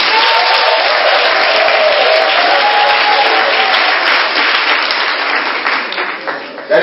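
A church congregation applauds during worship, with loud, dense clapping and crowd noise filling the space steadily before thinning slightly near the end.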